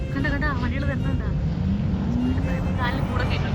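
Cars drive past on desert ground at Liwa near Abu Dhabi, with a steady engine drone and a rising pass-by tone while people talk over it.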